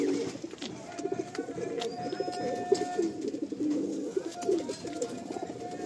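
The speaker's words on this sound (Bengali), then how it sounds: "একদম পাট্টা পায়রা এদিকে চোখটা দেখুন" Madrasi tournament pigeons coo continuously in a low, throaty, rolling murmur, several birds overlapping close by, with faint higher chirps drifting in behind.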